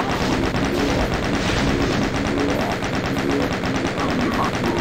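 Rapid, steady automatic gunfire in the video game Doom 2, loud and continuous across the whole stretch with no talk over it.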